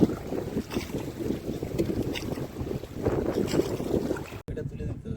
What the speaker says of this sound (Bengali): প্রচুর হাওয়া উঠে গেছে নদীতে এখন